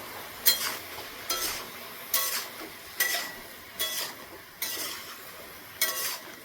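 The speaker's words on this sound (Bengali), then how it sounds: "এই যে এটা দিয়েছি মশলা, এবার ঘেটে দেবো।" Spices being stirred into bottle gourd curry in a pan with a spoon, in seven regular scraping strokes, each a bright close scrape over a soft sizzle, with no talking.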